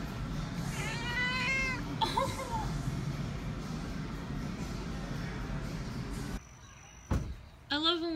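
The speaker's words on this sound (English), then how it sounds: "You keep meowing and you're so cute." A pet cat meows repeatedly at home, a run of drawn-out, wavering cries early on followed by a couple of shorter meows near the end, set against steady background noise and a brief knock.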